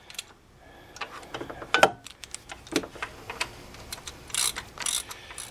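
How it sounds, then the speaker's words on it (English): A cheap torque wrench ratchets as it tightens the water pump bolts on a 5.7L Vortec engine in a Chevy Silverado, giving close, sharp mechanical clicks in irregular bursts with no talking. "I'm just using a cheapo torque wrench here"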